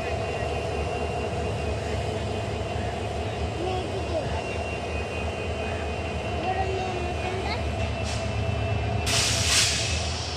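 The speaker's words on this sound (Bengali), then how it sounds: "এইটা দেন ট্রেনগুলো কত স্পিডে সাউন্ডটা বাজায়" A train passes at speed with a sustained rumbling roar and steady mechanical drone, close and continuous, with a brief hiss near the end.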